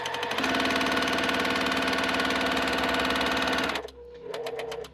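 A vintage sewing machine quilts a block in a loud, continuous run of close, rapid stitching, then halts briefly before a short second burst.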